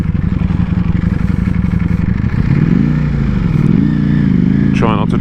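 A Ducati Panigale V4 engine runs while riding, a loud, continuous low rumble whose pitch rises and falls, with a person talking over it and some wind noise.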